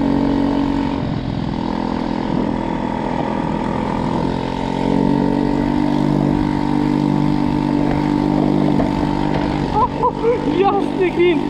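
A Chinese 50cc four-stroke scooter drones steadily while being ridden, its engine tone holding and rising slightly, with someone talking over it and wind buffeting near the end.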